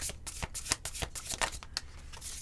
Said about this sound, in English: Let me get one more card here.